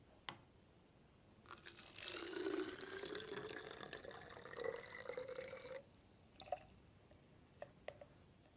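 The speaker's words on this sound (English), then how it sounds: "Now I'm going to transfer the water from this beaker into this bottle here." Water poured from a beaker into a bottle in a quiet room, a steady filling trickle lasting about four seconds with rising pitch, followed by a few drips and small clinks.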